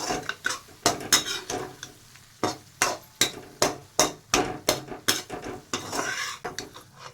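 A spoon stirs sarson ka saag, a mustard-greens dish, in a metal pot, clinking and scraping against the sides in a quick, steady rhythm of close, sharp knocks with no voices.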